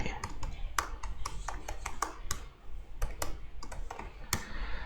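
Fingers typing on a computer keyboard to add text to a page, producing quiet, irregular clicks and taps with brief pauses.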